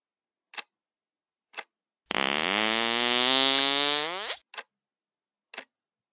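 A fart in a quiet room, one sustained, loud, buzzing blast lasting about two seconds, with brief sharp ticks before and after it.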